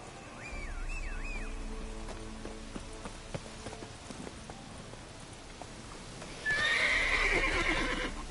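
Roach the horse in a video game lets out a loud whinny early on, hoof clip-clops follow, then a second, louder and longer neigh rises near the end over a low rumbling game ambience.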